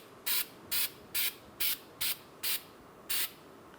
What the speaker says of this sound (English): I'm going to spray it with some anti-seize.